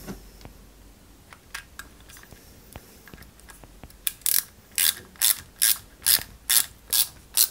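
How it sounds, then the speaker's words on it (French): Small screws are driven into a 1/8-scale Toyota Supra model kit, first as faint scattered clicks, then as a steady run of about eight loud ratcheting turns, close up. "Et on vient fixer le tout avec deux vis CM."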